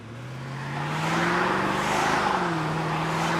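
A Mercedes E55 AMG wagon with freshly replaced parts pulls away on a test drive, its engine note rising steadily as it accelerates, with a brief dip as it shifts, heard from inside at close range.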